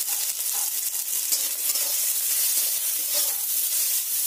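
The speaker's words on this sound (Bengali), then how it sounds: "তেলটা আমার গরম হয়ে গেছে, এবার কেটে রাখা উচ্ছেগুলো উচ্ছেতে দিয়ে দেবো" Cut bitter gourd pieces frying in hot oil give off a bright, steady, close hiss of sizzling with faint stirring and no speech.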